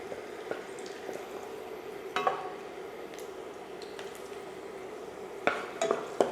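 Chicken deep frying in oil in a pan gives a steady low sizzle, broken by a few clinks and stirring knocks of a utensil against the pan.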